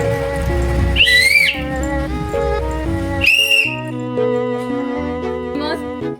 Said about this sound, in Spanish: Vamos a usar el mismo instrumento, el silbato, y lo soplaremos suavemente y luego con más fuerza.